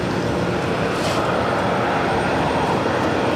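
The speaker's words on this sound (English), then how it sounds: "Another JetBlue A321 up next for arrival on 2-2 left" A JetBlue Airbus A321 arriving on runway 22 left at Boston Logan gives off a steady broadband jet rush, moderately loud and unchanging through the short stretch.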